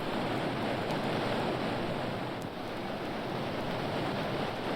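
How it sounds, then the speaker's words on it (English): A waterfall roars as a steady, dense wash of noise that stays loud and unchanging throughout, with nothing else standing out. "Listen, that roar. Is it a waterfall?"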